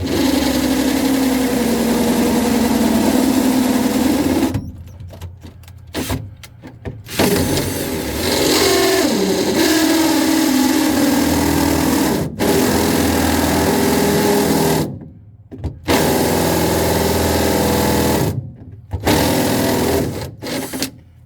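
A step drill bit on a power drill bores a hole for a Rough Country spare tire kit in a garage, a loud whirring drone that runs in long bursts with several abrupt stops and restarts.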